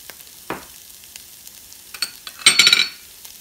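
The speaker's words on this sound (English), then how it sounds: "I've added my tomato paste, just cooking that up with the ground beef here" Ground beef and tomato paste sizzling in a pan, a low background hiss broken by stirring scrapes and a louder burst of crackling frying near the end.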